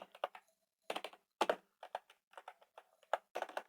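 Typing a one-line comment in a C program on a computer keyboard: irregular bursts of crisp, close key clicks separated by short pauses, fairly quiet and without speech.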